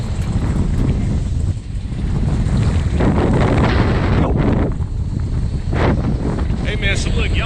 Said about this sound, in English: It's windy as fuck today, man.